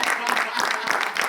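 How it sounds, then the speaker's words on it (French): A studio audience claps for Misty Lalo, a brief burst of hand clapping with voices mixed in. "On va applaudir Misty Lalo."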